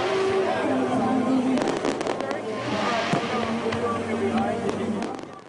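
Fourth of July fireworks over Point State Park in downtown Pittsburgh, the Flashes of Freedom show, popping and crackling in a continuous busy stream mixed with crowd noise and voices throughout.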